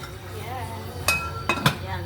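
A metal lid set onto a cooking pot of saba bananas, a few sharp clinks and clanks close by, with a low steady hum underneath.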